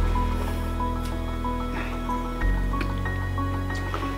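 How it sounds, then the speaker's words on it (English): Honey dripping off cooked bacon in a kitchen, a run of small, soft wet drips and squishy plops close by over a steady low hum, with no one speaking. "Ooh, honey's dripping off of it."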